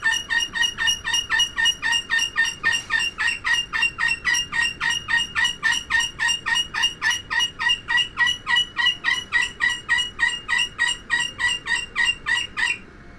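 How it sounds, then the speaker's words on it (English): A bird in the Titanic VR video game squawks and gobbles in a fast, relentless stream of loud repeated calls, roughly three per second, with no talk over it. "Yeah, that bird's going nuts, as you guys can hear."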